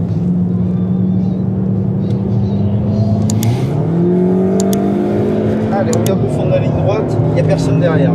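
A car accelerates hard around the Circuit de Haute Saintonge racing circuit, its engine note climbing and shifting pitch, loud and close from inside the cabin, while a coach talks over it.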